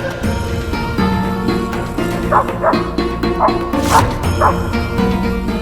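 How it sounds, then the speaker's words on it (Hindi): A dog barks several times in quick bursts over a steady musical background, each woof sharp and close. "रिश्वान का इस तरह भौंकना"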